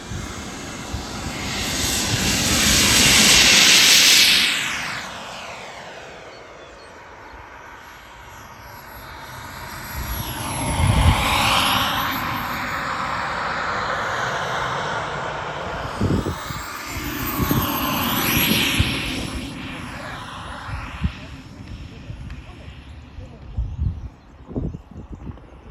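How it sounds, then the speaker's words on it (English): A radio-controlled jet plane's turbine engine roars in flight, swelling loud as it passes close, fading as it moves off, then sweeping past again with rising and falling whine and rushing wind. "This guy is about to fly an RC jet for the first time in his life"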